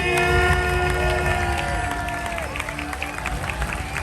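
A crowd at the end of a Japanese freestyle football championship claps and cheers in a loud, sustained roar with a tonal line running through it that fades slightly toward the end.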